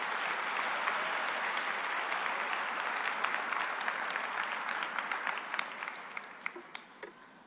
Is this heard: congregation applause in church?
yes